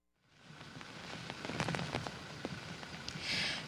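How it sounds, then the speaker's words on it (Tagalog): Heavy typhoon rain pours down in a continuous dense hiss of drops, swelling in strength as the downpour builds, with scattered louder spatters and no voices. "sa mga sandaling ito ay bumuhos na muli ang napakalakas na ulan at umiihip na huli ang pagkalakas-lakas na hangin"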